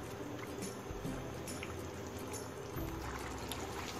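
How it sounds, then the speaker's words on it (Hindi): Half a cup of water is poured into chicken and oats cooking in a pan, a soft, steady splashing stream with a faint sizzle, continuous and quiet, with no talking. "आधा कप हम इसके अंदर पानी डाल देंगे"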